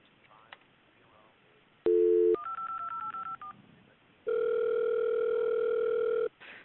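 Telephone dialing while calling back during an emergency: a dial tone, a quick run of keypad tones, then a long steady ringback tone, all fairly loud against quiet background.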